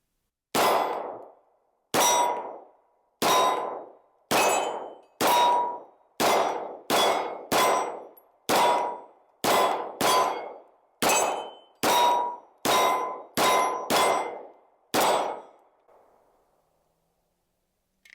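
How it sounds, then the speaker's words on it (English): A MAC 1911 DS pistol (MAC 9) empties a full magazine downrange: about fifteen sharp, loud shots at a steady but slightly uneven pace, each with a short ringing decay. No voices are heard. "let's put a magazine down range"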